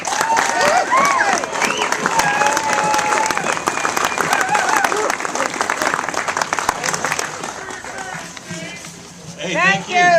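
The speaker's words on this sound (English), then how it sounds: "Please give a loud round of applause for Army veteran Shane Fuchs." Loud, sustained crowd applause and cheering fills a Second Amendment rally in Grand Junction, Colorado, holding steady throughout before dipping slightly, with a voice emerging near the end.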